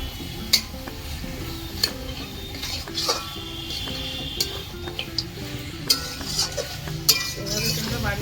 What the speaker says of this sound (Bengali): আমি এখন মাংসটা দিয়ে দিচ্ছি